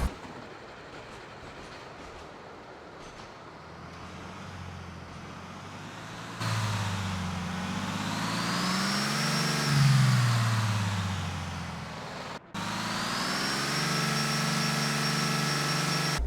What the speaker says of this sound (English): If you listen closely, you can hear a turbo spooling up from the engine.